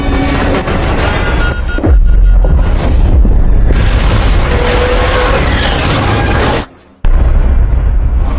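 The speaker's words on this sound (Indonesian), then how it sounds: "bomnya sudah keburu meledak" A loud, sustained explosive roar with heavy low rumble, cutting off abruptly near the end before resuming.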